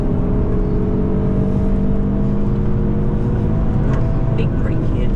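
A car driving hard on the Nürburgring: a loud, steady engine drone with a rising whine from inside the car, while someone talks over it.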